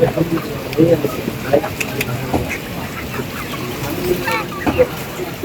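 Live chickens cluck and squabble in a retail poultry meat shop. Short squawks and fluttering sound close by, with people talking now and then.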